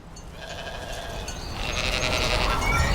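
Sheep bleat steadily in a close, loud chorus, livestock grazing in a farmer's field, the calls layered and continuous with no speech over them.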